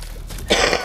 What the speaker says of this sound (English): I'm looking away from my mic when I cough